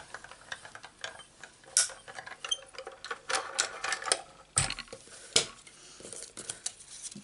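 A Sidekick die-cutting machine cuts paper for stamped card crafting. It gives a quick series of clicking, ticking mechanical snaps, close by, with a few louder clacks scattered among lighter ticks and no speech.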